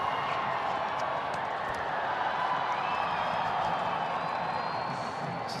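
Steady crowd murmur fills a cricket ground at Adelaide Oval, a broad continuous wash of distant chatter and stirring with faint scattered claps, even in level throughout.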